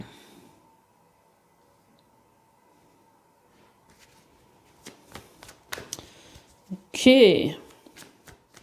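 Tarot cards being shuffled by hand during a reading, a few soft riffles and taps followed by a louder burst of shuffling, with brief speech over a quiet room.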